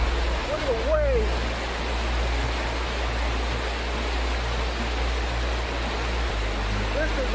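Rushing floodwater waves after a heavy downpour, a constant loud broadband wash with low rumble throughout.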